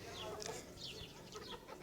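Bantam chickens (Chinese bantams) clucking in short, close calls, several overlapping over a steady farmyard background.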